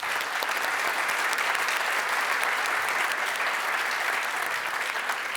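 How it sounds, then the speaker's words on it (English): An audience at a university graduation ceremony applauds warmly, a dense, steady roar of many hands clapping at once that stays loud and even throughout, close and unbroken. "we give a warm, short applause to Ali Ayub"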